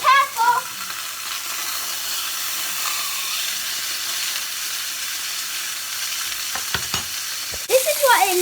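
A steak frying in a hot pan gives a steady, close sizzle with spitting hiss throughout, interrupted by a few sharp clatters near the end as the pan is handled.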